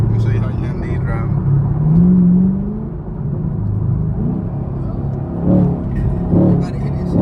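A car engine hums in a low, steady drone while driving, swelling slightly at moments like gentle acceleration, heard from inside the cabin with people talking over it.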